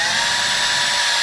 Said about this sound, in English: Okay, once it starts, I'm going to click the drill in reverse.